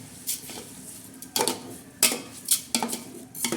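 A spoon stirs rice in a metal pot for chicken pulao, with irregular scraping and clinking strokes against the pot, close and moderately loud, with a faint sizzle underneath.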